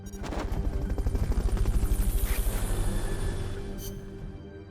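Helicopter rotor in the video game Metal Gear Solid Peace Walker, a steady rhythmic chopping throb running loud and close throughout, swelling slightly then easing off.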